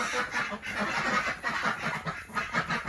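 Muscovy ducks quack and chatter continuously nearby, a busy layered flock with overlapping calls throughout, on a homestead in winter.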